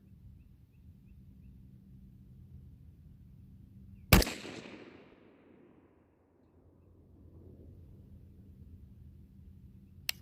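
A single sharp report from an 18-inch 6.5 Grendel rifle cracks out at an outdoor range, followed by a rolling echo that fades over a couple of seconds. Quiet stillness surrounds it, with a faint click at the end.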